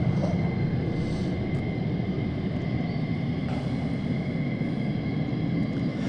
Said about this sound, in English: That sounds of them F-15s